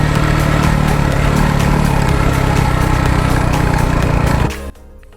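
Dirt bike engine, a KTM with an RFS four-stroke, revs loud and close while riding desert whoops, a steady buzzing drone that cuts off abruptly near the end to a quieter idle.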